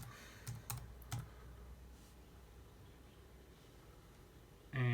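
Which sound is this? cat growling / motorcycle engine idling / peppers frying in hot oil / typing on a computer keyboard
typing on a computer keyboard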